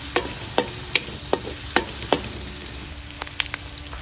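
Garlic and onion frying in a pan, a steady close sizzle broken by about ten sharp scraping clicks of a utensil stirring at a quick, uneven rhythm, no talk.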